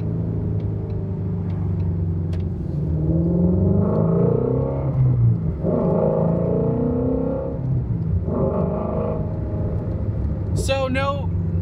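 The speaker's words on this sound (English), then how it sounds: "You can really start hearing the exhaust wants to come alive, and I think this pipe really allows it" Revving Ford Mustang GT350 exhaust fitted with a Corsa Double Helixx X-pipe, a steady deep rumble that swells in waves, heard from inside the car with a voice talking over it.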